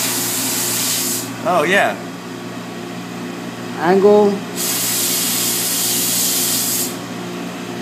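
Abrasive sand blasting strips solder mask off a PCB with a loud, close, steady hiss that cuts off briefly in the middle and again near the end, while a person speaks briefly twice.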